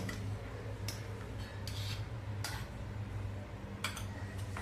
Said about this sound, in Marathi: सगळं चांगलं एकदा हलवून घेऊया